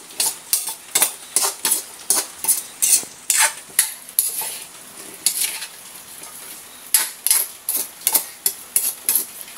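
A utensil scrapes and clinks rhythmically against a cooking pan as vegetables, including malunggay, are stirred, with steady repeated strokes and a soft sizzle underneath.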